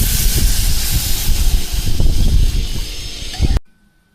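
Water poured into hot goat mutton masala cooking on a village wood-fired stove, a loud broad hiss and rushing pour with bubbling that holds steady for about three and a half seconds, then cuts off abruptly.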